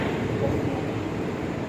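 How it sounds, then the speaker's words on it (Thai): Steady low rumble of a diesel train running along the rails, a continuous droning roar with no breaks, fairly close and even in loudness. "นี่คือเสียงรถไฟ"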